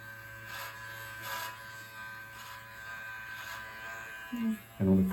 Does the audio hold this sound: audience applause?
no